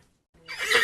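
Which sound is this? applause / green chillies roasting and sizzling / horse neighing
horse neighing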